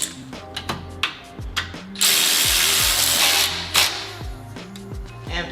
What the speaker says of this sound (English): So go ahead and tighten down the bolts once you have it aligned.